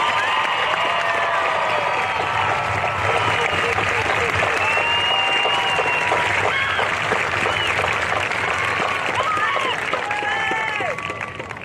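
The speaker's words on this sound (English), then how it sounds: "Let's have another round of applause for our graduates." Sustained applause from a large crowd at a 2023 high school graduation ceremony, steady dense clapping with scattered cheers, whoops and chatter throughout before tapering off at the end.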